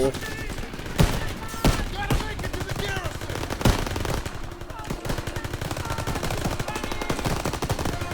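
Dense gunfire from Call of Duty WWII, a World War II game played on its hardest Veteran difficulty: sustained machine-gun bursts with several sharp louder shots, continuous and close throughout.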